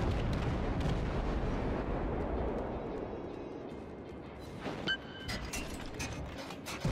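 Naval gunfire in World of Warships from a player's Omaha cruiser, heard as a heavy, rumbling, booming roar that slowly fades, followed by a few sharper mechanical clanks and pops.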